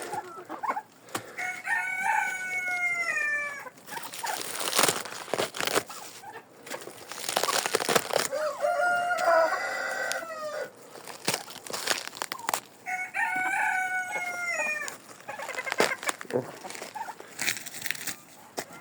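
Chickens and a rooster in a winter coop crow loudly several times, the long crows repeating at intervals over clucking and scattered rustling, close by.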